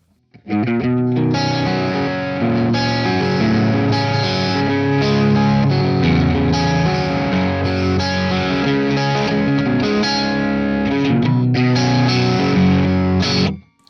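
An electric guitar plays a crunch tone through the CGT Free Man Satch profile on a ToneX, with distorted chords ringing loud and steady for about thirteen seconds with no talking.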